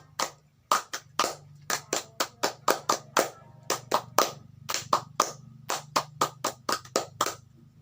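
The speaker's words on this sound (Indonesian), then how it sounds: "2 kali tepuk pramuka, siapkan?" Scout clapping pattern performed twice, crisp close hand claps in a rhythmic sequence of quick groups and pauses, repeated in two rounds with no talking.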